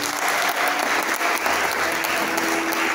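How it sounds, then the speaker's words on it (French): A church congregation bursts into loud, sustained applause and acclamations, dense clapping mixed with crowd cheering throughout, with faint tonal voices underneath. "Donne des acclamations au roi des rois"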